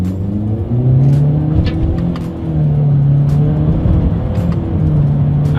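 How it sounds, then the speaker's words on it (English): A 2020 Honda Accord with a CVT accelerates hard through quick paddle-shifted gear changes, its engine droning loud and close with steady rising and falling revs and no talk. "Let's do a quick little paddle shifter test here, and let's see how quickly they react for us."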